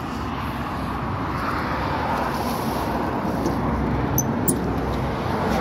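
Hinomoto 14 hp three-cylinder water-cooled Japanese mini tractor engine idling with a steady, even diesel-like chatter, moderately loud and close, with no voices over it.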